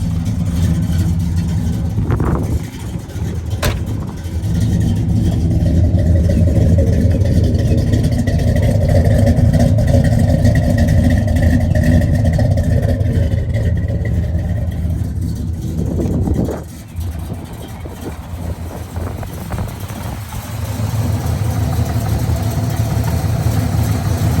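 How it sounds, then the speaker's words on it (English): A 1969 Chevrolet Chevelle SS 396 with a numbers-matching 350 hp engine and four-speed idles steadily, not yet fully warmed up, with a loud, even low rumble. A couple of sharp knocks come early, and the engine note dips briefly near the end. "It's not fully warmed up yet, but it should be able to idle."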